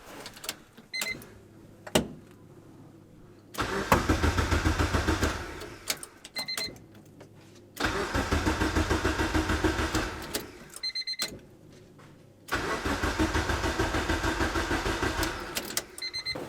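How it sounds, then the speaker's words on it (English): An Acura Integra DA9 engine cranking in three short bursts of rapid rhythmic starter churning, separated by quiet pauses with faint clicks, close and fairly loud without voices. "we're only going to do a little bit of cranking at a time"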